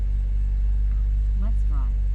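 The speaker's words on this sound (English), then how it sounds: "do a cold start on this" An Oldsmobile engine idles after a cold start on a 39-degree day, a heavy low rumble that holds steady and loud, with a man's brief speech over it.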